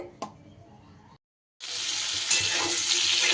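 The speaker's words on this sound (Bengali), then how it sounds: "আলু পটলগুলোও এদিকে আমার খুব ভালো করে ভাজা হয়ে গেছে" Potato and pointed gourd pieces frying in oil give a faint sizzle, then after a brief silence a loud, steady, crackling sizzle carries on close up.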